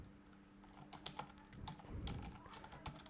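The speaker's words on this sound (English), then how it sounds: "typing here" Keys clack on a computer keyboard in quick, uneven bursts, close and fairly soft, over a low steady hum.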